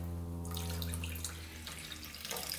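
Gasoline pours out of the fuel system of a neglected plowing ATV, a steady splashing, trickling flow like a running tap, continuous and close throughout with a low hum beneath.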